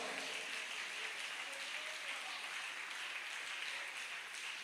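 Sustained applause from a church congregation, a dense even wash of clapping heard at moderate distance throughout.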